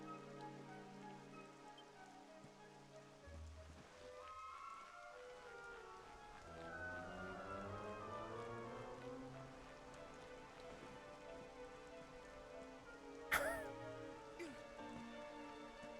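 Rain falls in the video game Dragon Quest XI S as a steady soft patter that runs the whole time beneath tonal game music, with a brief sharp clatter near the end.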